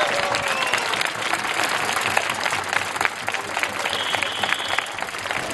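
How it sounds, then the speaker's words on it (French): A crowd applauds at an outdoor protest rally against the health pass in Auxerre. Steady clapping continues throughout, loud and close, with occasional shouts and whistles cutting through. "Donc je voudrais qu'on l'applaudisse elle aussi."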